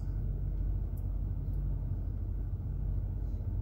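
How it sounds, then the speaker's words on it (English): Steady low road-traffic rumble from cars on a busy Friday-night street in a Florida tourist town, continuous and fairly loud with a few faint higher hisses passing over it, no talking. "I was hoping the traffic would settle down a little bit."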